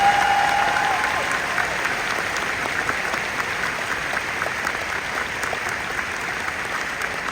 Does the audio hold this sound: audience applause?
yes